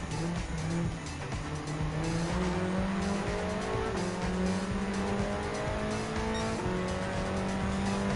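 Race car engines roar continuously in Gran Turismo 7 during an overtake of a 1981 Porsche 911 Turbo Type 930 on the Alpine Hill circuit, with rising and falling gear-change pitch sweeps and tire squeal, loud and sustained throughout.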